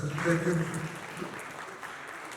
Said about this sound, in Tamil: அது நல்ல கைதட்டுங்க, சந்தோஷமா இருக்கு